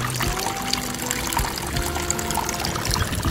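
Water flows and trickles steadily through rooftop containers planted with mini dwarf baby tears aquarium plants, a continuous close, even splashing with no talk.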